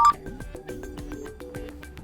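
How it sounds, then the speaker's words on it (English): A Nokia G50 phone plays a notification sound preview, a rapid run of short chiming electronic tones in a quick rhythm, clear and close. "We can change notification sound."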